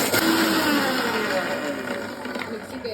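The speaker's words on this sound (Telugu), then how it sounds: "మిక్సీకి వేసుకుంటున్నాము. దీంట్లో వాటర్ వేసి ఇప్పుడు మళ్ళీ పేస్ట్ లాగా చేసుకుంటాం" A kitchen mixer grinder whirs as it grinds red chili paste with added water, a loud steady motor drone that eases slightly over the clip, with people talking over it.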